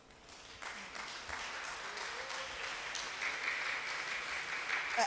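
An audience at an international charismatic meeting claps steadily, a dense, moderately distant applause that swells slightly and holds without a break, with no voices over it.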